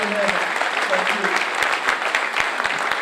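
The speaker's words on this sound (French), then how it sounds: "Je vous demande d'applaudir Marcel Gauthier" An audience at a civic New Year's ceremony in Tarnos applauds for Marcel Gauthier, with steady clapping and distinct individual claps standing out, along with some murmured voices in the crowd.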